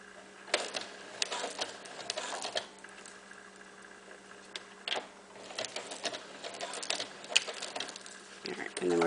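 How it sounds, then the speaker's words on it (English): A sewing machine stitches forward and then backward on a cloth diaper while attaching Velcro, giving brief clattering runs of stitches with short gaps between them, close by and fairly quiet. "you're going to go forward a couple stitches and then backwards a couple stitches just to lock the stitch."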